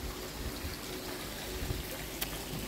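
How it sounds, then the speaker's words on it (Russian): A small waterfall splashes into a residential swimming pool, a soft, constant rushing hiss heard faintly from some distance with no voices. "И вот такой бассейн со своим водопадом."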